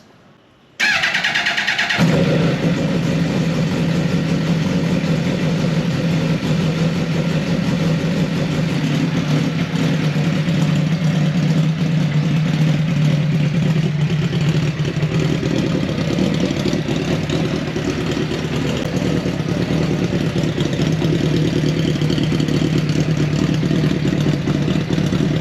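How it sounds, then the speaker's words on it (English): A car engine in a garage cranks and catches abruptly, then settles into a loud, steady idle that runs on without a break, close to the microphone. "We can't leave this video without starting the car."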